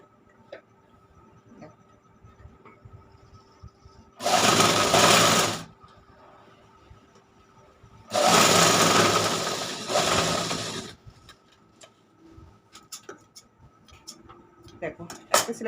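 A sewing machine stitches fabric along a marked stitch line in two loud close bursts, one short and one longer, with quiet handling sounds and pauses between them.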